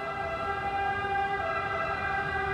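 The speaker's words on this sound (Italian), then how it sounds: "sta arrivando l'ambulanza" An ambulance siren wails steadily at moderate distance, its tones holding level without pause.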